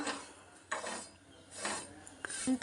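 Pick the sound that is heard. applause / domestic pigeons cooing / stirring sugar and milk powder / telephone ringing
stirring sugar and milk powder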